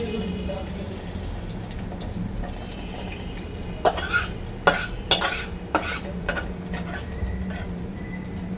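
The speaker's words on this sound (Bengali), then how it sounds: "এবার তরকারিটা আমি নামিয়ে নিচ্ছি চামচ" A spoon scoops katla fish curry out of a pan, giving a short run of sharp metallic clinks and scrapes against the pan over a low steady background hum.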